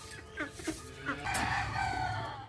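Chicken clucks from a village hen with two chicks, several short calls in the first second and a longer call near the middle over steady farmyard background noise.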